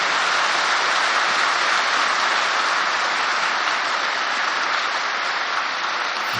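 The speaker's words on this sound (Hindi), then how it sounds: "सभी को चुस्त बनाने के लिए ताली बजाई" A seated group at a spiritual gathering claps vigorously together, a loud, dense, even roar of hands that holds steady for several seconds before cutting off.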